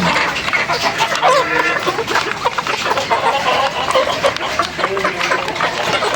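A flock of chickens and roosters, including a straight-combed male, clucks and calls loudly and up close, the birds overlapping continuously while someone talks among them.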